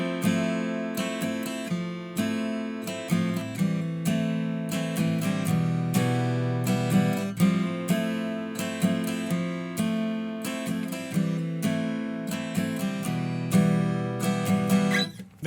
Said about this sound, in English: So the rhythm guitar sounds like this.